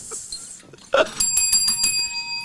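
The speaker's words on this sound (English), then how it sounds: "Give me my bell." A small bell, like a bicycle bell, rings in a quick series of bright metallic dings, close and clear after a quiet start.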